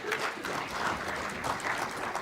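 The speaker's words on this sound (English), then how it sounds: "A big round of applause" Sustained audience applause fills a parliamentary session hall, a steady wash of many hands clapping at an even level throughout, with no talk over it.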